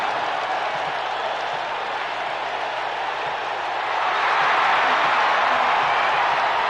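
A wrestling arena crowd in the video game WWE 2K roars and claps in a dense, continuous wash of cheering that grows louder partway through.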